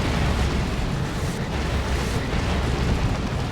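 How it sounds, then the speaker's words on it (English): A dense, continuous roar of lascannon fire and blasts in Warhammer 40,000: Dawn of War 2 fills the clip, loud and close, with no talking. "Bunch of las cannon fire."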